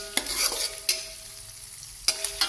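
Spinach and sliced tomato are stir-fried in a pan. A utensil scrapes and clanks sharply several times over a soft, steady sizzle, close up, with no one talking.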